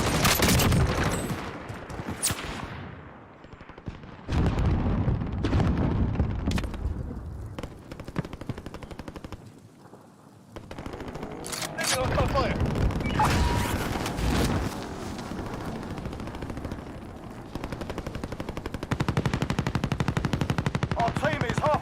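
Automatic sentry gun firing in a first-person shooter, sustained loud bursts of rapid gunfire with brief gaps, layered over other in-game battle noise.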